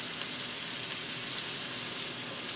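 Portabella mushrooms fry in olive oil in a pan, giving a steady, dense sizzle that stays even and fairly loud from start to finish, with no voices over it.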